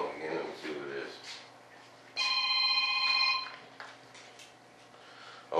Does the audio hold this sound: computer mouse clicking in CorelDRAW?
no